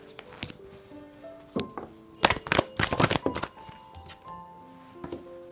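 Tarot cards are shuffled by hand up close, with soft slaps and a dense burst of riffling flutters in the middle, over faint background music.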